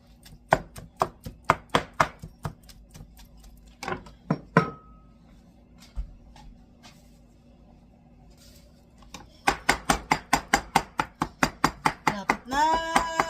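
Rapid knife chopping on a board, a quick steady run of sharp taps, then a pause with a few scattered knocks before the fast chopping resumes, close and clear.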